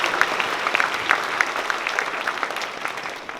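Audience applause at a veterans honoring ceremony, a steady wash of many hands clapping at moderate loudness for the full stretch, with no voices over it.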